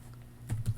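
A few quick computer keyboard keystrokes, soft and close, clicking in a short burst of two or three taps while someone enters data in a spreadsheet.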